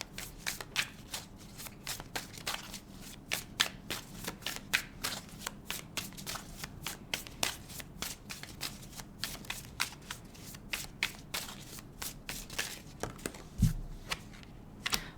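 Tarot cards shuffled by hand in a steady run of crisp riffling snaps and soft slides, close and alone for the whole stretch with no talk.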